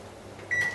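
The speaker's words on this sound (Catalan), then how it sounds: "apaguem ja el microones" Microwave oven heating hake fish: a faint steady hum that gives way to a thin, clear electronic tone lasting about a quarter second, then a louder click or thump at the end.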